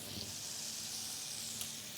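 A strip steak sizzles in a cast iron pan, giving a faint, steady hiss with small pops and no talking for two seconds.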